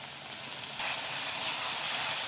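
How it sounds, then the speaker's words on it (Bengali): Chilli and turmeric spice paste fries in oil while being stirred, giving a steady, close hiss of sizzling that swells slightly louder partway through. "যতক্ষণ না মশলাটাই তেল ছাড়ছে নাড়াচাড়া করেই যেতে হবে।"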